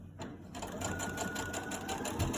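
A sewing machine runs a straight stitch through a filter pocket fabric mask, with a close, steady, rapid mechanical whir and rhythmic needle clatter throughout.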